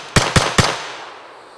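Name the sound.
FN P90 bullpup firearm being fired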